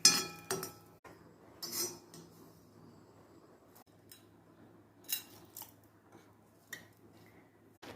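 Spoonfuls of roasted chammanthi mix with prawns, dried crisp, scraped into a grinder jar: sharp metallic clinks and scrapes in short separated bursts, close and quiet, with no talking.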